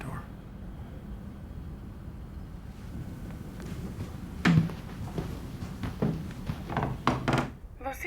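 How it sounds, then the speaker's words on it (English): A door shuts with a solid thunk partway through, followed by a few lighter knocks and bumps close by, set against a steady windy background hiss. "Please close the door."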